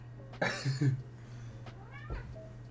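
A cat named Thor gives a short meow, then a fainter second call a moment later, quiet and close over a steady low hum.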